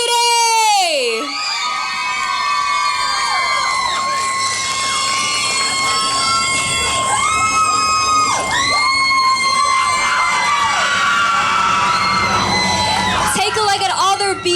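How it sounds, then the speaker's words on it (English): A crowd at a Merced Hmong American Day celebration cheers and whoops loudly and steadily for a group of women, with shouts and high calls over the din and voices close by throughout. "Let's give another round of applause for these beautiful ladies here today!"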